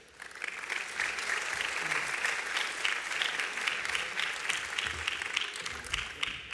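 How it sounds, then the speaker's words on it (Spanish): A dense, steady wash of applause from a conference audience fills the whole stretch, many hands clapping together at an even level without a break. "Lo recibimos con un fuerte aplauso."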